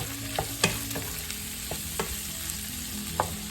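Tomatoes with garlic and onions sautéing in a pan for pork blood stew, a soft steady sizzle broken by a few scraping knocks of the spoon as the mixture is stirred.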